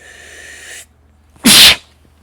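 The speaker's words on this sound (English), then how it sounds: "Sneezing coming." A single loud, sharp sneeze bursts out close to the microphone after a moment of faint background hiss, then quiet returns.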